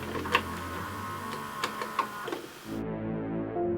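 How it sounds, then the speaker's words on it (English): A VHS cassette being loaded into a video player, with mechanical clicks and clunks followed by a steady whirring hum as the tape starts to run. "sliding the cassette into the video player, the tape whirring to life."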